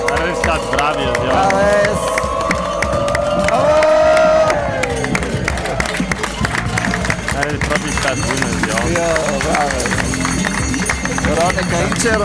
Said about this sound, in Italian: Allora, pronto a fare l'applauso.